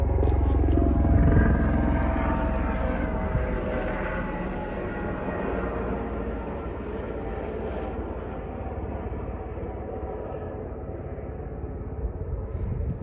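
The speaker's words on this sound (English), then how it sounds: "There's a helicopter." A steady low engine drone with rotor-like rumble passes overhead, loud at first and then easing slightly while staying constant.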